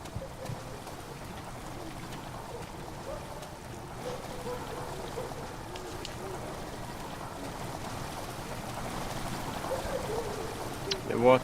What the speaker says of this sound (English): The water is rushing into the chamber, makes a strange sound.